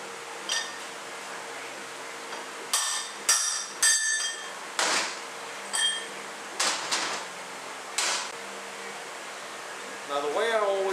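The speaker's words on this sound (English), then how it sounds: "Now we use our bushing driver to remove our old bushing." A bushing driver hammers the old front pump bushing out of a 4R75E automatic transmission pump, giving a series of sharp metallic strikes, irregularly spaced and close, with quiet workshop room tone between the blows.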